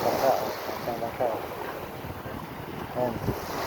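Small boat out at sea under overcast skies, a steady wind-buffeted rumble of water and hull with wind noise on the microphone, while voices talk intermittently over it.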